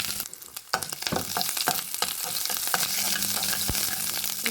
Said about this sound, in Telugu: ఆవాలు, పచ్చెనపప్పు మొత్తం కలుపుకొని 2 నిమిషాలు వేయించుకోవాలి